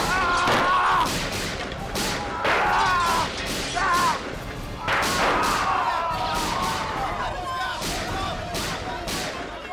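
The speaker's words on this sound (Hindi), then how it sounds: "बहुत गोलियां चली।" Gunfire erupts during a staged police raid in a TV crime drama, with several loud, sharp bursts and thuds spread over the scene, interleaved with shouting voices.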